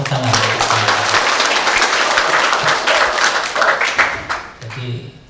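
Sustained applause from an audience at a graduation ceremony, loud and dense throughout, with voices audible beneath it and the clapping thinning toward the end.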